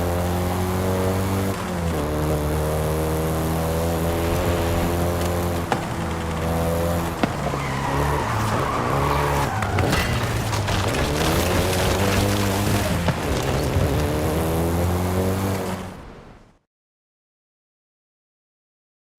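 A VW Golf GTI hot hatch drives in the Forza Horizon 5 video game, its engine a loud sustained drone that climbs through gears with brief shifts and tire noise, then cuts off abruptly into silence.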